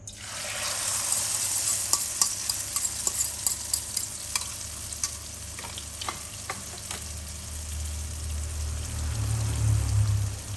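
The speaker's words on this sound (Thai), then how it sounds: "ตั้งกระทะให้ร้อนค่ะ เราจะเจียวไข่ชะอมนะคะ" Oil sizzles steadily in a pan as an acacia leaf omelette fries over medium-low heat, with scattered pops and crackles, a stirring clatter early on, and the sizzle swelling louder toward the end.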